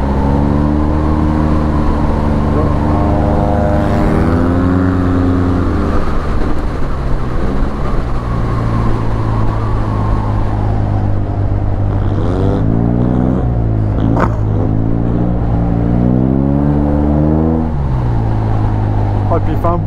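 Yamaha Tmax 530 maxi-scooter engine droning loudly throughout with rising and falling exhaust revs, rough pitch sweeps near the end; a voice speaks over it.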